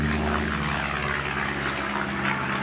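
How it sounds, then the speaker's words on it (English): An aeroplane passes overhead with a steady propeller engine drone, fairly loud and continuous throughout, with no talking. "There's a plane going over."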